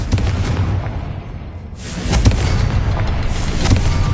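A Confringo blasting spell explodes in Hogwarts Legacy: a loud, close boom followed by a second burst, both over continuous rumbling game noise and with no talk.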